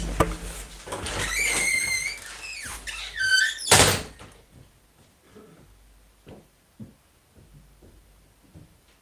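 An interior door is checked, opened and closed, giving a squeak, sliding scrape and a sharp thunk near the middle, followed by quieter handling and faint movement in a home during a live stream.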